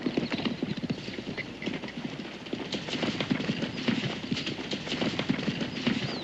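Hooves of a horse pulling a hitched wagon clop steadily and briskly on hard ground, a continuous rhythmic clatter close by.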